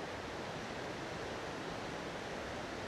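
The Chikuma River in Koumi, Nagano, flowing under a clear sky: a continuous, broad rushing wash of water at a steady moderate level, with no speech.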